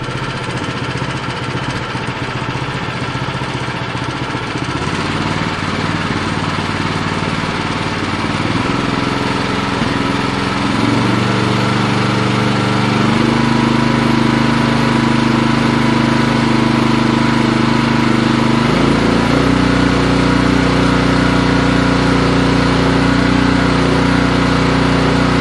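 An Ariens Pro 28 Hydro EFI snow blower engine idles at about 1800 rpm, a steady, loud, continuous drone with a low hum that shifts pitch a few times and holds alone throughout.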